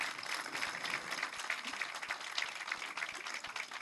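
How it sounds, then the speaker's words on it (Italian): Audience applause at an award ceremony, a steady dense clapping that fills the whole stretch at moderate level, with no voices over it. "Facciamo un altro applauso."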